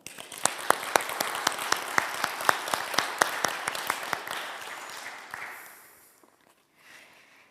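A church congregation applauds choir singers after a service performance, steady clapping from many hands for about five seconds before fading out into near quiet.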